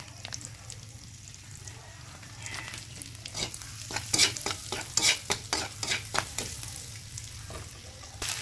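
Onion and garlic with turmeric and cumin sizzle in a pan while a spoon scrapes and stirs, making a soft frying hiss broken by a run of sharp, rhythmic scraping strokes, with no voices.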